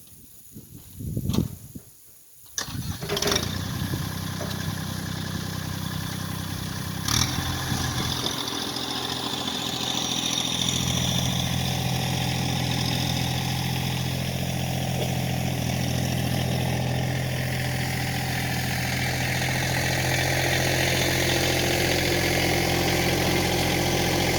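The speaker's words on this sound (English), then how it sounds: "we'll move the tractor back" A tractor engine idles close by with a low, even rumble, after a few brief knocks and clatters at the start.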